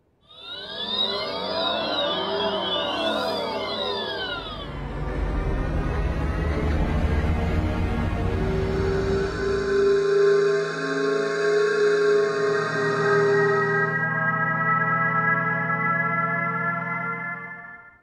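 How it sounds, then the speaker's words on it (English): A sequence of synthetic electric-car pedestrian alert tones: a sweeping warble, then a low humming drone, then sustained electronic chords fading out, futuristic-sounding. "Are you familiar with the acoustic alert for pedestrians?"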